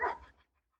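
One short, close dog bark, a single sharp woof that fades quickly into quiet.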